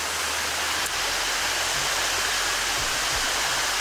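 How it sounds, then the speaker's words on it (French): A waterfall in Bosnia roars as a steady, loud, broadband wash of falling water, continuous and unbroken, with faint low bumps beneath. "c'est pas la cascade la plus impressionnante qu'on ait fait en Bosnie"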